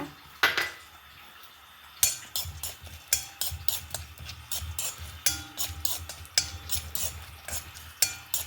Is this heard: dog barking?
no